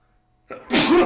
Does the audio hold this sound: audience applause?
no